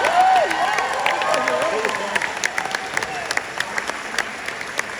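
A concert crowd at a show in Jacksonville applauds and cheers for the trumpet and trombone players, loud at first, then thinning to scattered claps, with a voice speaking over the start.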